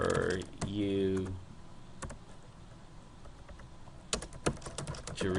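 Computer keyboard typing in short bursts of quick clicks, busiest at the start and again near the end, with a voice speaking briefly in between.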